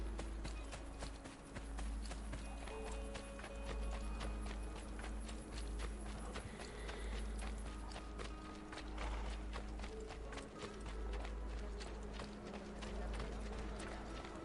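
Horse hooves clip-clopping in the video game Assassin's Creed 2, a steady run of hoof beats under constant game music and ambience, with a voice talking over parts of it.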